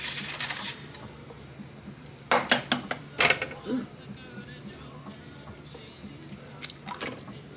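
Three eggs cracked for fried rice, a few sharp taps and cracks on a hard edge in quick clusters, with quieter kitchen handling sounds and low room noise around them.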